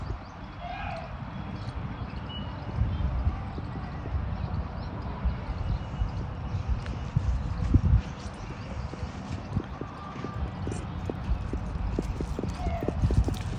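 A Kathiawari mare walks at a fair, her hooves clip-clopping in a steady, uneven rhythm amid a busy outdoor crowd murmur, fairly close and moderately loud, with voices in the background.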